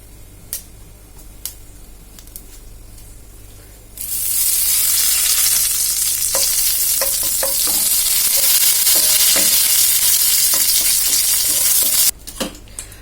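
Mustard seeds, fenugreek, cumin and curry leaves hit hot oil with a sudden loud, steady sizzle after a few quiet seconds of scattered light ticks, crackling on with small pops before cutting off near the end.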